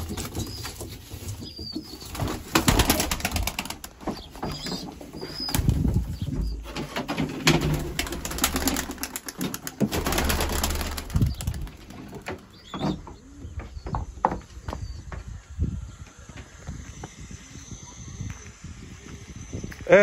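Pigeons flap their wings in bursts and coo softly nearby, with rustling and scattered bird calls throughout.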